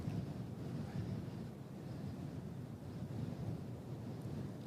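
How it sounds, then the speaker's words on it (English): Gusty wind at an airport buffets a camera microphone, a low rumbling, fluttering roar that stays loud and continuous throughout with no speech. "the wind's grabbing the front end of my lens"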